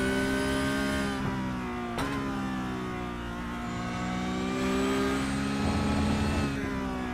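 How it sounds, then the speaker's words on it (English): Engine of a Porsche 911 GT3 Cup car, 992 generation, racing in iRacing: a loud, sustained, buzzy howl that rises and falls through the revs with brief gear-change dips, heard alone. "a very noisy but beautiful sounding machine. This Porsche 911 GT3 Cup car, the 992 iteration of this car, makes a fantastic racket."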